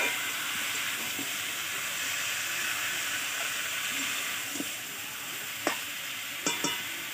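Boiled banana flower goes into a hot pan for a shrimp and banana flower dish, giving a steady broad sizzle with soft stirring scrapes and a few sharper utensil knocks near the end, no talking.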